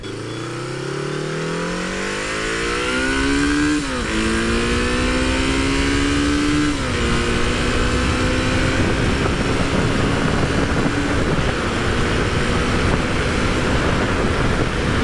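A Honda CB550 motorcycle engine accelerates hard on an expressway, rising through the gears with two clear shifts, then holding a loud, steady drone amid strong wind rush.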